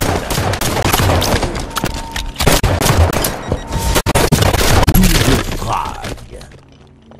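Gunfire in the Halo 5 video game, dense and continuous bursts of shots with thuds and impacts, loud throughout and fading near the end, with speech mixed in.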